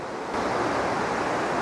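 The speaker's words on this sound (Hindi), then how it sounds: "नदी की आवाज़ भी सुनाई दे रही होगी प्यारी सी ना भाई नदी की आवाज़ भी आ रही है" A river flows nearby on a cool evening, giving a continuous rushing wash of water that stays fairly loud and steady throughout, with no voices.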